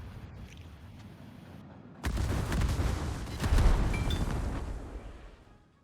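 Heavy naval gunfire from an IJN tier 7 battleship, the Ashitaka, in World of Warships: after a quiet stretch a sudden loud booming salvo bursts in, rumbling and rolling on for several seconds before fading.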